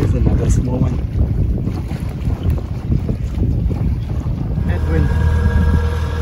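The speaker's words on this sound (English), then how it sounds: "Seven knots of wind. Very beautiful, very laminar." Wind rushing past a small cruiser sailboat under sail off Croatia in a light breeze, loud buffeting gusts over the microphone mixed with water and hull noise, continuous and close.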